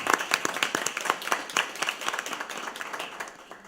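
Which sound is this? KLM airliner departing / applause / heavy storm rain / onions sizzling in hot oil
applause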